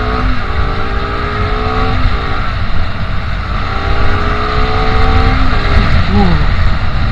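A Honda CBR250RR motorcycle on a test ride accelerates hard, its engine note climbing through repeated rising gear pulls under steady loud wind rush, with a brief shift and drop near the end.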